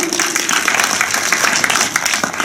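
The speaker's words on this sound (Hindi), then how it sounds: "तो ताली बजा दो एक बार" An audience at a gathering claps together, a dense steady round of applause sustained at even loudness throughout.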